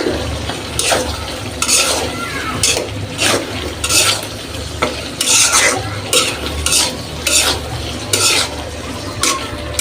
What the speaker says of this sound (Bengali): এখন আমি পটল আলুটা দিয়ে দিচ্ছি, এটা কষানো হোক আস্তে আস্তে